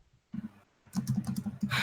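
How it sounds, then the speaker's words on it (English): Computer keyboard typing during a late-night live stream, arriving as a quick run of clicky keystrokes after a brief pause, fairly close and alone, with some breathing noise around it. "Now we can hear you typing and breathing exhaustively."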